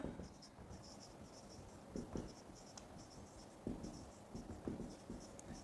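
A maths solution being written out by hand, producing faint scratchy pen strokes in short bursts with pauses, close and quiet against a hissy room background.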